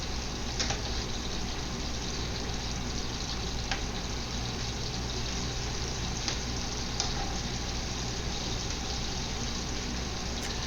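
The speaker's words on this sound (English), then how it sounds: "when you add the eggplant to the hot oil, it cools it down" Steady broadband sizzling of eggplant deep frying in hot oil over high heat, continuous and fairly loud, with occasional faint clicks and no talking.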